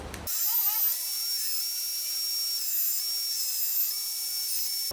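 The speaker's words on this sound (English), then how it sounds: "I'm going to take it to the belt sander to just kind of like square up some areas" A steady high-pitched whine of a belt sander squaring up pallet wood runs continuously for several seconds, close and fairly loud, with no talking.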